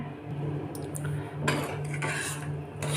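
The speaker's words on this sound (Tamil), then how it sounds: "இப்போ நான் உங்களுக்கு மிக்ஸ் பண்ணி காமிக்கிறேன்." A spoon stirs finished mutton curry in a metal pot, producing scraping and clinking strokes in uneven bursts over a low steady hum, fairly close and with no talking.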